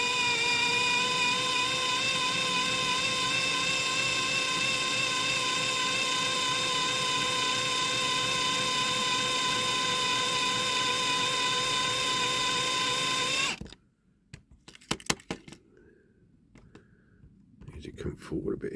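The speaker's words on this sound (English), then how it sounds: "We're going to need a bigger drill bit on the back there." A small electric drill whines steadily at high pitch for several seconds, drilling a diecast Corgi Toys Ford Mustang model car, then stops, leaving faint clicks and handling noises.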